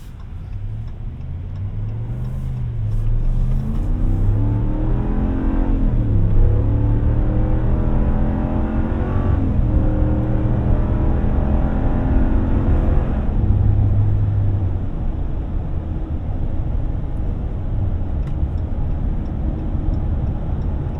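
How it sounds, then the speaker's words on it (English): A 2019 Dodge Ram Rebel crew cab pickup with a Hemi engine accelerates up to highway speed, heard from inside the cab as a deep rising engine drone with gear shifts stepping the pitch, steady road rumble beneath. "Now let's see how this Rebel performs as picking up on highway speed."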